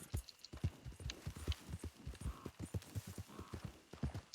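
Horse hooves clip-clop in a steady, rapid rhythm throughout as the horse travels in the video game Red Dead, close and continuous.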